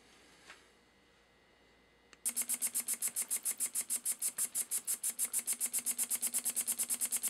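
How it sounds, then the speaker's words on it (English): After a quiet stretch, an Elmer Verberg model beam steam engine on a workbench, the number 24, kicks into motion on low-pressure compressed air. It chuffs in a fast, even, close-up rhythm of about four beats per second. "here we have the old number 24 steam engine running. It's running on hardly any air pressure."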